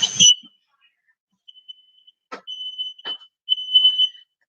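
A ceiling smoke alarm in a home kitchen goes off during the baking of buttermilk biscuits, giving a few steady high beeps in short bursts amid quiet room noise and a couple of sharp knocks.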